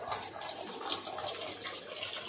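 Liquid pours steadily from a large green coconut weighing about 3-4 kg, a continuous splashing trickle close by with no talking.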